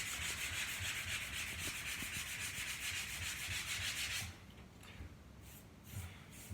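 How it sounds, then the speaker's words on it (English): A patched spot on a bedroom wall is hand-sanded before repainting. Fast, even rubbing strokes scrape on for about four seconds and then stop, quiet and close, leaving faint room noise. "So we want to sand our patch"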